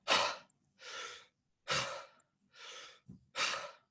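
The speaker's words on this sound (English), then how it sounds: "just to breathe in, and then a sharp exhale out" Five separate breaths alternate between in-breaths and sharp, forceful exhales through the mouth, each lasting about half a second, close and clear with short silences between them.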